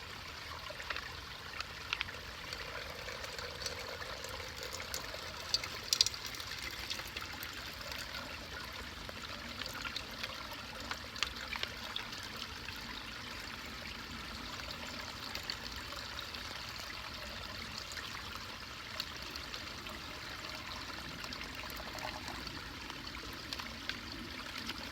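About a cup of water poured into a container marked 16 ounces, a faint, continuous trickling wash that runs steadily with small splashy ticks and no voices.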